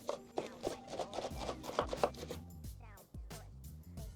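A knife cuts Napa cabbage into strips for kimchi on a board, a quick series of crisp chops with short pauses, close and clear, with a voice talking over the cutting.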